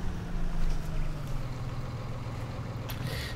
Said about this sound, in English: the tractor which we have on demo today is the very impressive Massey Ferguson 8740S